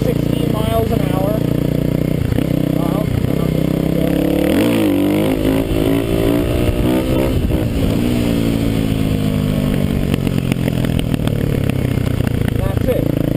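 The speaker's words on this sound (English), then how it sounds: "I am going to do a really quick wheelie right here. So this is second gear." A Kawasaki KLX250S motorcycle lifts into a wheelie in second gear, its single-cylinder engine revving up and down loudly up close with rising and falling pitch sweeps, a rider's voice talking over the engine at times.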